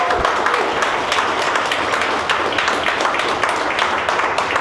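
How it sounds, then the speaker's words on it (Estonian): Studio audience applause for a guest chef on a cooking show, dense sustained clapping that fills the space evenly and loudly throughout. "Teeme talle suure aplausi!"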